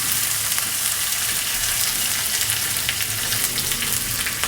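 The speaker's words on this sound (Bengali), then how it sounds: "দিয়ে দিচ্ছি পেঁয়াজ পেস্ট।" A medium onion's worth of paste frying in a pan for katla fish curry with taro, a loud continuous hiss and crackle with occasional stirring, close up and without speech.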